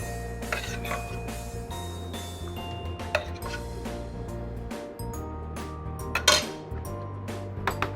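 Red beef curry served into a dish: scattered metal-on-crockery clinks and scrapes from a spoon, with a couple of sharper knocks, over a steady low background drone.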